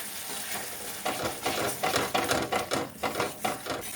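A spiced masala fries on a low flame as yogurt is stirred in. A soft sizzle runs under rhythmic scraping and clattering from a spoon against the pan, with no talk.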